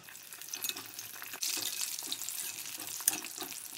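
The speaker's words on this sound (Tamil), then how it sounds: "இந்த கத்திரிக்காய் இதுக்குள்ளே போட்டு கொஞ்சம் நல்லா வணக்கி எடுத்துக்கலாம்" Brinjal (eggplant) pieces sauté in hot oil for an oil-style eggplant gravy, a soft hiss that swells into a steady, watery-sounding sizzle, close and moderately loud, with a faint clink near the end.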